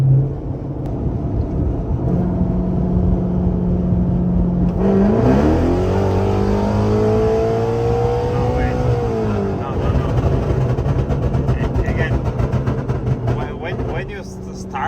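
A car accelerates hard at full throttle, its engine note climbing steadily in pitch as the revs build, then easing off. A voice is audible in the background.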